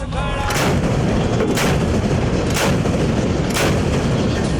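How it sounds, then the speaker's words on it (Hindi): Pakistani army artillery gun firing, about four loud booming shots spaced roughly a second apart over a constant heavy rumble, each blast sharp and powerful. "अब फायर होने जा रहा है"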